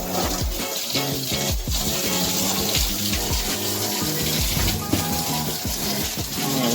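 Water runs steadily from a garden hose outdoors at a tree house, a loud continuous splashing gush with faint clatter mixed in.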